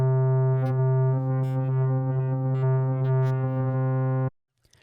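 A sustained synth tone from a custom morphing wavetable in Xfer Serum, square-ish with a sine-like undertone and a subtly shifting timbre, held steady and loud for about four seconds before stopping abruptly.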